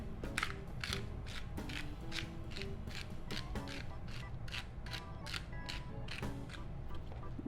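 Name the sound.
grinding Italian herbs over chicken feta pasta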